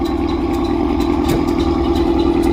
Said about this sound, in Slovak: Ford Mustang, poctivá 5-litrová V8, atmosféra.